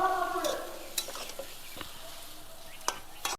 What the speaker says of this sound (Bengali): এবার শাপলাগুলো আমি ঝোলের মধ্যে দিয়ে দেবো দিয়ে ভালোভাবে নেড়ে দেব